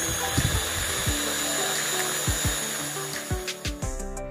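Nugget ingredients being ground until smooth in a kitchen appliance, a steady whirring motor drone running throughout with thumps and knocks rising toward the end, no voices.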